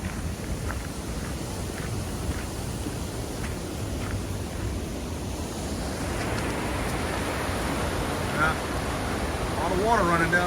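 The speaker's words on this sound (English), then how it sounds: "A lot of water running down there." Water rushing down a stream in bleak Scottish countryside, a broad steady hiss that grows louder and closer in the second half, with brief voices near the end.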